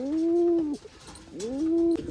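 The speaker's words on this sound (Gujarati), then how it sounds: "તો જો આવી રીતે કબૂતર છે કેવું બોલે છે ચાલો" A pigeon coos twice up close, each a low, rounded, wavering call separated by a brief pause.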